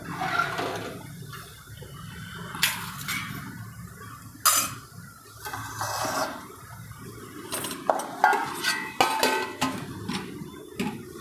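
A ladle scrapes and clinks against a metal pot of simmering onion kadhi made with sour buttermilk, a run of sharp metallic taps and clanks over a low bubbling hiss, fairly close.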